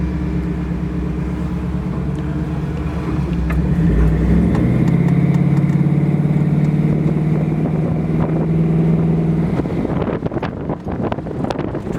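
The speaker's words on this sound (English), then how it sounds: "the exhaust is not loud, but you know it's a V8" A 1974 Ford Bronco with a 302 EFI V8 driving down a street, its modest exhaust giving a steady low rumble that swells as it pulls away, mixed with wind noise, then fades into rattling road noise. No talking.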